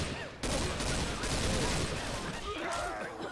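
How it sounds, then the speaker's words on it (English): Rapid bursts of gunfire from the Left 4 Dead 2 video game, set at a carnival, crackle in a dense fusillade with players talking over it. "Can you stop shooting me?"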